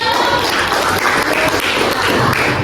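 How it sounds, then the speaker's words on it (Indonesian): A group of children claps for the top three winners in a class, a dense, continuous patter of hands close by that keeps an even level the whole time. "tepuk tangan dulu dong"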